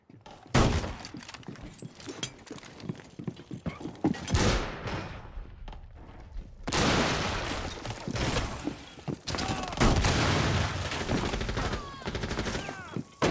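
Shotgun fire in the game Rainbow Six, loud blasts and rapid gunfire bursts from the in-game action, broken by a brief quieter lull before dense shooting resumes.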